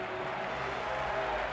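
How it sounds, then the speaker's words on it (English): A baseball stadium crowd at a Milwaukee Brewers game stands and cheers, a steady, distant roar of applause and voices sustained evenly throughout. "This crowd again on their feet"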